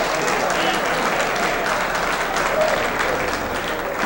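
A crowd at a 1993 US Open 9-Ball pool championship applauds in a dense, even wash of clapping that holds steady at full volume throughout.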